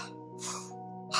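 A voice imitates breathing with two airy exhalations, one near the middle and one at the end, over a steady sustained tonal hum.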